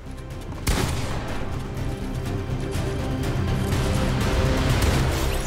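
Rapid gunfire from a Fortnite match keeps up a dense, loud stream of shots after a sharp opening blast, with steady rattling bursts throughout and no pause.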